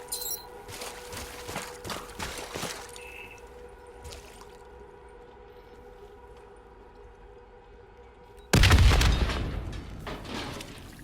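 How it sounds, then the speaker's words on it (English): Loud, sudden explosion in the Black Ops 3 Nightmares campaign arrives late as a deep booming burst, after a stretch of quieter game ambience with a faint siren-like tone and scattered thuds. "The explosion blocked our path."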